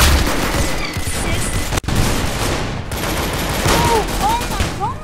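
A minigun firing in a video game produces a continuous loud roar of rapid gunfire. There is one brief break, then the firing resumes.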